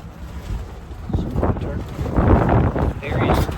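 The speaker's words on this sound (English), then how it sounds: "It's windy out here." Strong wind blows outdoors by a woodpile covered with tarps. It rushes and buffets the microphone in gusts, building louder partway through, with a low rumbling roar.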